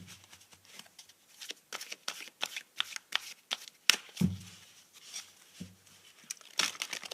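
A deck of archetype cards is shuffled for a tarot reading, with repeated brisk riffles and slaps coming in uneven bursts, close and fairly quiet, with no one speaking.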